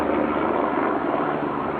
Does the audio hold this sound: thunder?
no